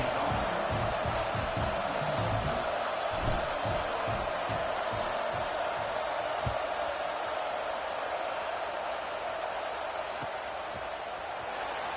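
Stadium crowd in the College Football 26 video game, SMU versus Washington, gives a steady, subdued roar over twelve seconds, with scattered low thumps and no lift into cheering.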